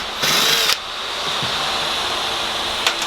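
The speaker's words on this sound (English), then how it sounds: "drill some holes" A power drill boring holes to mount a panel during a camper van build, one short whirring burst near the start followed by a steady background hum.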